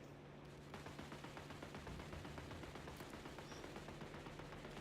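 Rapid, steady bursts of a small ship-mounted cannon firing at biplanes in the War Thunder naval battle, a continuous rattling barrage at moderate loudness over a low engine drone.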